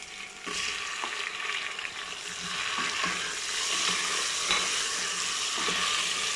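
Tomatoes fry in a pan for a mixed vegetable dish, a steady hissing sizzle with light stirring scrapes, continuous and close by without talk.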